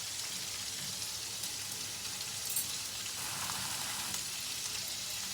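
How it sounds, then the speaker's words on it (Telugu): Cauliflower florets frying with turmeric in a pan for a cauliflower tomato curry give a steady, close, even sizzle that runs unbroken throughout, with no talking. "పసుపు వేసుకొని కొంచెం వేగనిద్దాం."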